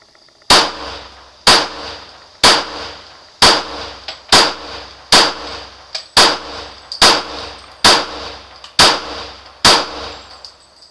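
Twelve sharp gunshots from a Glock 23 Gen 4 .40 S&W pistol firing light 155-grain reloads, loud and close at a steady, nearly one-per-second pace, each with a short ringing tail.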